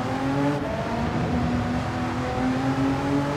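Race car engine in Gran Turismo 7 on an Italian circuit, droning steadily at high revs with smooth harmonic tones that shift slightly as it accelerates, loud and continuous with no talk.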